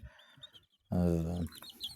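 Faint peeps of newly hatched chicks at the start, then a loud, drawn-out hen cluck or call for about half a second, followed by more soft peeping.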